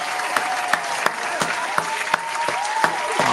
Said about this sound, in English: Round of applause to Stu Sims.